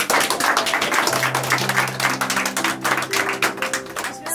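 Applause at a family surprise celebration for a mother in the village of Coscalia, a dense crowd of clapping hands under sustained tones of background music.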